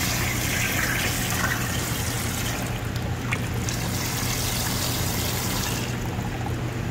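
Water pouring steadily into a container holding fish, a continuous splashing, gurgling stream at moderate volume with no voices over it.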